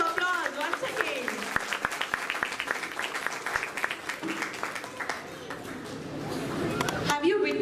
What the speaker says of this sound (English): please give them a huge round of applause once again